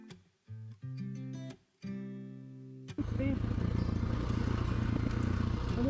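A motorcycle descends from Cinnamon Pass in Colorado, engine braking on a mountain trail; a few seconds of quieter, broken engine tones and harmonics give way to a loud, steady rumble with heavy wind buffeting.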